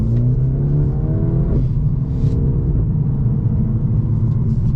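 A 2023 Mercedes-AMG CLA 35 Coupe in Sport Plus mode accelerates hard, its engine rumbling loudly from inside the cabin with rising pitch and a brief dip at a gear change.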